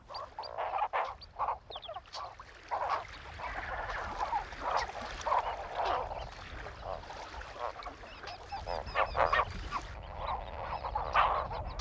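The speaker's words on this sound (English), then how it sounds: "Huge colonies of flamingos come to the lake where they sieve the water in search of algae and crustacea" A dense flamingo colony honks and gabbles continuously at a lake in Tanzania's Ngorongoro Crater, many overlapping calls at mid distance forming a noisy colony chorus.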